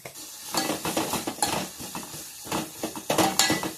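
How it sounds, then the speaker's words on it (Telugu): Salted food is stirred in a pan, with a metal spoon scraping and clinking against the pan in irregular, close strokes over a steady sizzle. "సాల్ట్ వేసుకొని కలుపుకోవాలి."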